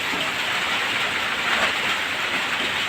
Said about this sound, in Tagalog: Kanina pa yung ulan na yan.